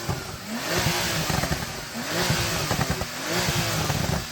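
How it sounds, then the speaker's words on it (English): A Porsche 911 engine revving hard at a drag-race meet, several sharp throttle blips rising and falling in pitch, loud and close, with brief pauses between bursts. "Maybe now you can rev up your car."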